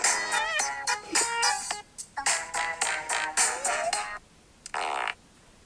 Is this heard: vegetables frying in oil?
no